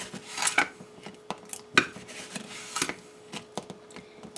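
Granulated sugar scooped with measuring cups into a mixing bowl for baking, heard as a series of close, crisp clinks and scrapes with soft pouring rustles between them.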